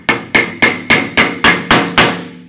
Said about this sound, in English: Now we're going to pound our extractor in.